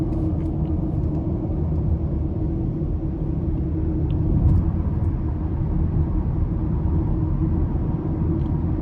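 Cabin of a 2020 BMW X3 xDrive30i SUV on the move: a steady low rumble of tyre and road noise, even and unbroken, with no talking.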